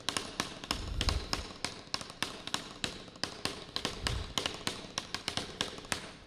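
Quick, dry drumstick taps on a rubbery practice pad in a steady stream of singles and doubles, with a couple of low thumps underneath, close up.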